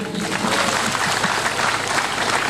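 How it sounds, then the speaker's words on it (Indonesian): A short burst of steady crowd applause, many hands clapping at once, loud and close throughout. "Tepuk tangan dulu."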